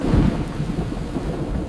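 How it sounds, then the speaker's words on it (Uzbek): Thunder rumbles loudly and close in a forest as rain begins, a deep roll at the start settling into a steady wash of rainfall. "Yomg'ir ham boshlanibdi."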